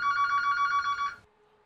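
Telephone ringing in the Bugs' Burgers video game, a loud, steady electronic bell trill holding for about a second before cutting off to near silence.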